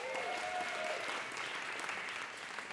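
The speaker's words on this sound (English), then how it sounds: "One more round of applause" Audience applause at a live storytelling event in downtown Los Angeles, a sustained, fairly distant wash of clapping from a crowd, with a brief voice or whistle-like tone early on.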